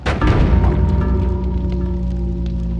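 An explosion in the game Noita hits as a loud, dense boom that stays thick and rumbling for close to three seconds, with crackling debris over a heavy low roar and no voices.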